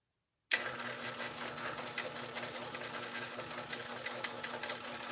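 A longarm quilting machine stitches steadily and close by, its rapid even needle chatter starting abruptly after a brief silence and running at a constant pace with a faint motor hum beneath.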